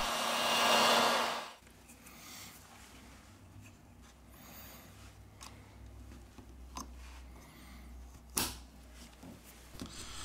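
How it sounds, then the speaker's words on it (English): A heat gun warms a Redmi Note 8 phone during a teardown. It gives a loud, steady broadband blowing roar for about a second and a half, then cuts off, leaving faint ticks and small clicks. "With the help of the heat gun, we apply 19 Celsius degrees during 4 minutes."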